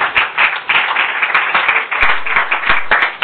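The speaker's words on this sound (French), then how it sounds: "Acclamez très fort pour la gloire de Dieu." A crowd claps and applauds loudly and continuously in a church gathering, with dense rhythmic hand claps filling the space and no voices standing out.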